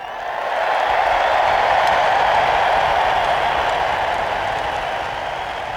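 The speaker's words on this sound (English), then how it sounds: "Mine is the roar of the crowd." A hockey crowd at KeyBank Center roaring as one sustained, dense wash of cheering that swells in and holds steady for several seconds before easing slightly, no distinct voices standing out.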